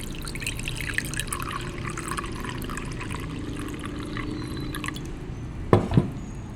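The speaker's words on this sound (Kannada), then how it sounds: "ಒಂದು ಬೌಲ್ ತಗೊಂಡು ಅದಕ್ಕೆ ಫಿಲ್ಟರ್ ಮಾಡ್ಕೊಳ್ಳಿ." Barley water trickles through a filter into a bowl in a quiet, continuous thin pour with faint drips, followed near the end by a couple of sharp clinks of utensil against the bowl.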